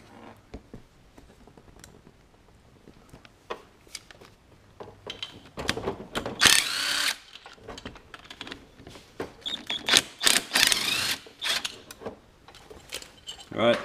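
Cylinder head bolts on a 50cc scooter being loosened with a ratchet, giving irregular clicking and mechanical rattling bursts that grow louder in the second half, with brief pauses between.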